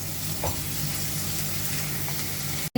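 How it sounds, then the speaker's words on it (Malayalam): Ginger garlic paste fries in a pan for a fish curry, a steady sizzle and hiss running continuously with faint scrapes of stirring, close and even, no voices. "ഒരു സ്പൂൺ ഇഞ്ചി വെളുത്തുള്ളി പേസ്റ്റും കൂടി ഇട്ടിട്ട് അതിൻ്റെ എല്ലാം പച്ചമണം പോകുന്നത് വരെ നമുക്കൊന്ന് ഇളക്കാം"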